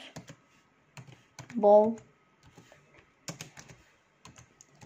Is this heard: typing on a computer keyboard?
yes